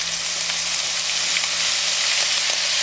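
Cumin seeds, asafoetida and green chillies sizzle steadily in hot oil for a Pakistani-style zeera aloo, a dense, continuous frying hiss that stays loud and close, with a few faint crackles and no voices.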